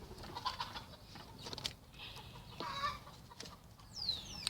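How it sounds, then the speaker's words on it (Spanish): Chickens outdoors, where many are kept, cluck and call in short, soft bursts. The sound is quiet and somewhat distant against a low background hum, with a few sharper calls toward the end. No one speaks. "aquí donde vivo hay muchas gallinas"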